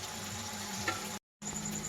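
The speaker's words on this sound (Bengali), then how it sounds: "কুচি কুচি করা টমেটোটা দিয়ে আরেকবার ভালো করে কষিয়ে নিতে হবে।" Chopped tomato sautéing with spice paste in a pan, a soft steady sizzle heard close up with a brief dropout partway through, no voices present.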